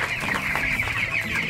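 Chickens clucking close by at feeding time on a farm, a steady run of short overlapping clucks with no talk.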